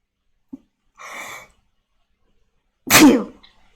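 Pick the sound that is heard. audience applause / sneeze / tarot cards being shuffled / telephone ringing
sneeze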